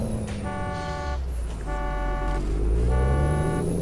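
A car alarm blares in American Truck Simulator: three evenly spaced horn honks, each lasting about a second, loud over a continuous low truck engine rumble and road noise, with no talking.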